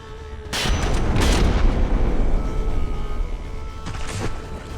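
In a naval warfare video game, heavy artillery shells fire and explode in deep booming blasts, with two close thuds early, a long rumbling tail and another blast near the end.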